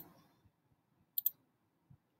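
A computer mouse clicks twice in quick succession, faint and close, in an otherwise quiet room.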